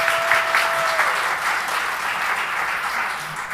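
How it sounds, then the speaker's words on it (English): Sustained audience applause for presenters at a women's health evening event, a dense, even roar of clapping from a sizable crowd with no talk over it. "let's give another round of applause for our presenters."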